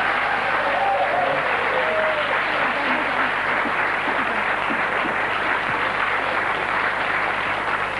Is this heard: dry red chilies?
no